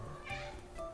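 A British kitten gives a couple of short, thin meows close by, with a faint voice talking softly in the background.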